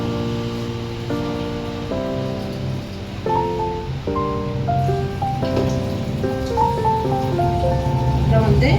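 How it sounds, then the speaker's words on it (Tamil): Water pours onto raw rice and moong dal in a pot, a steady splashing patter heard under tonal background sounds that shift in pitch. "இதுக்கு வந்து நம்ம இப்போ தண்ணி ஊற்றிக்கலாம்."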